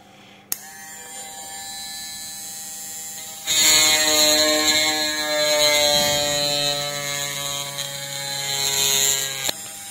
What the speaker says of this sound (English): I will make drill at these four points.